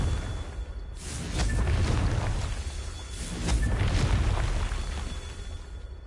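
Fire spell explosions in Hogwarts Legacy burst twice in close succession, each a loud deep boom with a crackling, whooshing tail over a rumbling low background.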